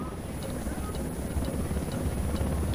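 A helicopter in the Ghost Recon Wildlands video game, a steady low rotor thump and engine drone that continues at a constant loudness throughout, with faint higher clatter on top.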